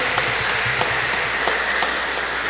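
Steady applause from an audience at a lighthearted recollection gathering, a dense, even wash of clapping that holds at the same level for the whole stretch, with a few sharper claps standing out.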